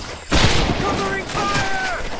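Gunfire crackles in the World War II Pacific shooter game Medal of Honor Pacific Assault, a sudden loud burst of shots over continuous battle noise, with shouted voices and whistle-like tones mixed in.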